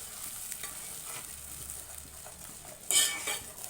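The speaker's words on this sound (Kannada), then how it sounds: "ಈ ಮಸಾಲೆ ಮಾತ್ರ ಚೆನ್ನಾಗಿ ಫ್ರೈ ಆಗಬೇಕು" Ground masala paste frying in a pan for chicken sambar, a low steady sizzle with stirring, then a sharp metal clink and louder crackle near the end.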